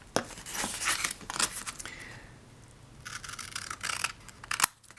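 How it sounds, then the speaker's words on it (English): Shears cut through fabric at a board's edge, giving several crisp close snips and rustling bursts separated by short pauses, with no talk. "So I'm going to cut this with the shears so that the fabric will fall just inside the edge of the board."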